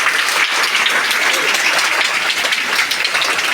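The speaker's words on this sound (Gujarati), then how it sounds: "તાળી પાડો." A school audience at a talent competition claps in dense, steady applause, loud and close, throughout the short burst.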